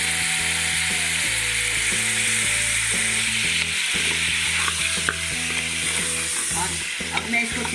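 Mutton for namkeen gosht, with ginger paste and dried coriander, is stirred and roasted in a pan, sizzling steadily while a utensil scrapes and knocks against the metal, close and continuous, with no voices.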